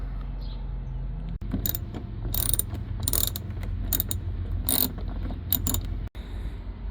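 A ratchet turns a Torx T30 socket on an extension to back out door panel screws on a Chevrolet Traverse, giving bursts of sharp ratcheting clicks over a low steady hum, close and fairly loud.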